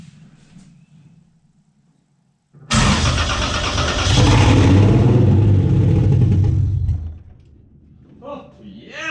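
Toyota 2JZ engine fitted in an International Scout 800 cranks and fires after a quiet pause, then runs loud and rough for several seconds before dying down. Excited voices follow.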